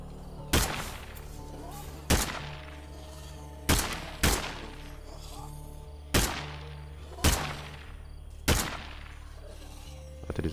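Repeated loud gunshots in State of Decay 2, about seven sharp blasts spaced a second or two apart, each with a short echoing tail over a low steady hum.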